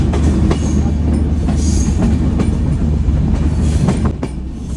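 Kapotaksha Express train rolling near Paksey station, a loud steady rumble of wheels and carriages with rhythmic clatter and brief squeals, continuous throughout and easing slightly toward the end.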